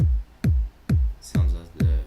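Punchy electronic kick drum made in FL Studio, five heavy thumps in an even pulse with a fast-decaying low boom, loud and dry with nothing else playing.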